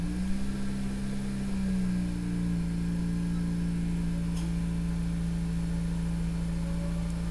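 Used car engine idling just after a cold start: a steady, continuous mechanical hum with a sustained low drone, its pitch settling slightly lower early on and then holding even, with no talk over it.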